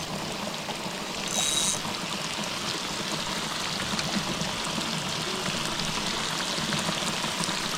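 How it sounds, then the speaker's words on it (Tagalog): Heavy rain pours down steadily outdoors at a fishing spot, a dense continuous hiss that holds throughout with a brief louder swell near the start, and no voices. "Niliguan na kami ng ulan."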